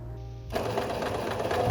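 A sewing machine fitted with an invisible zipper foot stitches an invisible zip. After a brief quiet moment, a close, steady, fast mechanical whirr starts up and runs to the end.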